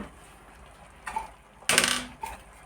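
A lid is set on a cooking pot of greens being boiled with salt, giving a sharp metallic clatter with a couple of smaller clinks before and after it, close and clear in a quiet kitchen.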